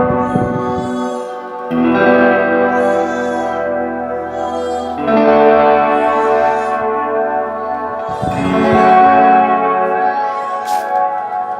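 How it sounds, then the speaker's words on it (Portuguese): Electric guitar chords played through a Lightyear BFFX 2 pedal on its ambience setting, a modulated reverb, with three loud sustained strums swelling into shimmering, wavering tails that ring on without voices. "aqui a gente podemos ouvir o ambience, né? Que é um reverb com modulação."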